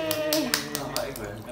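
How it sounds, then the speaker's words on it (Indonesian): A child claps hands about half a dozen times in quick, uneven beats, close by and light, while an adult talks over the claps. "Tepuk tangan sendiri. Hore."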